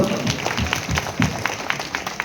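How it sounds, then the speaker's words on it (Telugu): An audience at a Hindu religious gathering in Vijayawada claps together in a rhythmic, fairly loud burst of applause, with a voice faintly present underneath. "గట్టిగా కొట్టండి చప్పట్లో."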